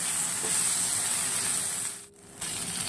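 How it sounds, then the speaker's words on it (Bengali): Ginger garlic paste frying in hot oil in a wok after chopped onion, chili, salt and turmeric, a steady close sizzle and hiss with a brief dip near the end, no voices. "ভাজা ভালো করে হয়ে যাবার পর দিয়ে দেবো আদা রসুনের পেস্ট,"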